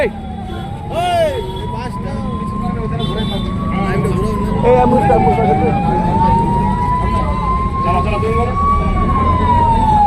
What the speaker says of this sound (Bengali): অ্যাম্বুলেন্সটা পার করতে, অ্যাম্বুলেন্স পার করতে,